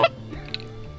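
A duck call blown with a low, guttural growl near a riverbank during late-season waterfowl outings; one short, loud burst opens the clip, then only faint background remains.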